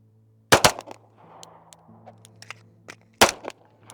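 Handgun zeroing practice: two loud, close pairs of sharp shots roughly three seconds apart, with a quiet background and faint rustle between them.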